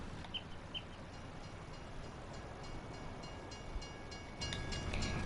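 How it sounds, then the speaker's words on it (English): A train rolls past near tracks running by farmland, a steady broad rumble throughout that swells louder toward the end, with a few faint bird chirps above it. "Oh my gosh, this train is going to be the death of me."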